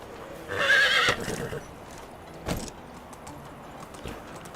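In the medieval life-sim game Medieval Dynasty, a horse whinnies in a loud, shrill burst near the start, followed by a few sparse hoof clops and thuds against a low ambient hum.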